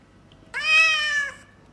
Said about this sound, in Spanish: ¿Y cómo hacen los gatos?